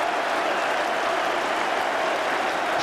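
Cricket crowd at an Ashes Test between England and Australia roaring and applauding a fallen wicket, a dense, steady wash of clapping and cheering that holds at full volume throughout.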